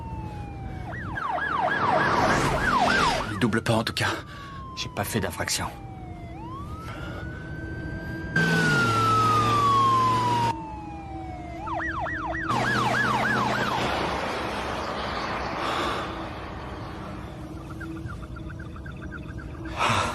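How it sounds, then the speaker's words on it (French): An emergency siren wails and yelps nearby, shifting between rising sweeps and rapid warbling, with brief talk in between. "C'est peut-être pas pour nous, la sirène."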